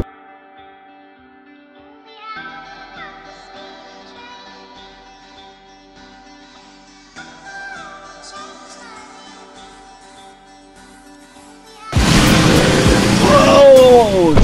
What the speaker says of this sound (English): It's raining heavy today.